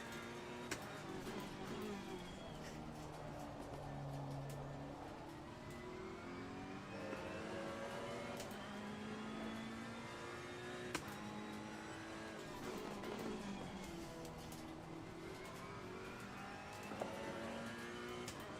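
A race car laps in Assetto Corsa Competizione at Barcelona on fresh tyres, its engine whining steadily as it revs up through the gears and drops on downshifts, with occasional clicks over the continuous drone.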